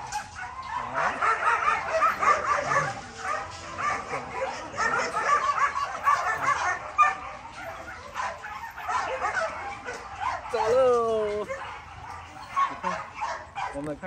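A three-month-old Samoyed puppy left behind at a school barks, yips and whimpers in short bursts close by, with a person speaking over and between the sounds.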